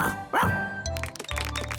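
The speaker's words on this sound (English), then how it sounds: "He rolls on his back and he barks a lot." A cartoon ladybird character gives a short burst of loud dog-like barks, a couple of yips over brief background music.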